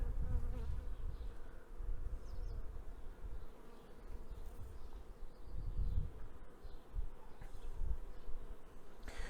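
Carniolan honey bees hum as a constant, close swarm-like buzz from a hive while its frames are inspected, with soft low bumps and knocks underneath.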